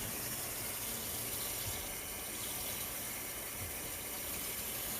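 Cold water pours steadily into a cup of decaf coffee lightened with cream, a continuous, even splashing rush that runs close and loud for the whole stretch, with no talk.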